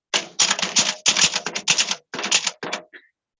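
Loud manual typewriter being typed on, a rapid run of sharp clacking keystrokes in bursts with brief pauses, close up and without speech.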